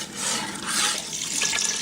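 Water pours steadily into a large pot of gumbo being doubled to twenty cups, a close, continuous splashing gush with no talk.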